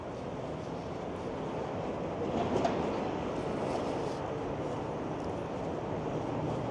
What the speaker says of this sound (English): You can hear the train passing directly overhead.